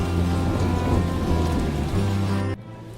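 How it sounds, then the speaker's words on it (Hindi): Steady rain pours down in a cartoon scene, a dense continuous hiss of falling water with low rumbling underneath, cutting off abruptly near the end to a quieter wash. "बरसात फिर से शुरू हो जाती है"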